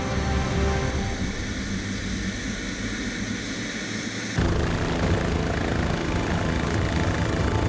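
Steady, loud rotor and engine roar from a helicopter hovering close overhead while crates of fish are clipped onto its sling, surging louder partway through as it begins to lift, with no talk.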